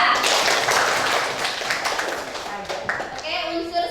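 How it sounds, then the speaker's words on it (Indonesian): A classroom of students clapping for a classmate, a dense burst of close, fairly loud claps that gradually thins out, with a few children's voices mixed in toward the end. "Oke, beri tepuk tangan untuk Sabila."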